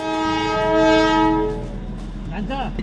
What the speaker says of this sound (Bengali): কারণ হঠাৎ করে টয় ট্রেন ঢুকে গেছিল